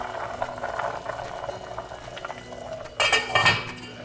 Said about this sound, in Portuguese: Agora nós vamos abaixar o fogo e deixar ele cozinhando em fogo